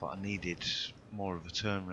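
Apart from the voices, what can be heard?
No distinct noise like a dog, phone or traffic.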